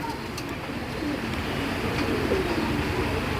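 Giribaj pigeons coo softly through a constant noisy background at a pigeon market, the low calls faint and steady rather than sharply separated.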